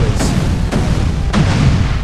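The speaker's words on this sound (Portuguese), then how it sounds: "ou a explosão do número 2" Three booming blasts from a ninja jutsu attack in a GTA San Andreas mod land about half a second apart, each a heavy low-end explosion over a continuous rumbling roar.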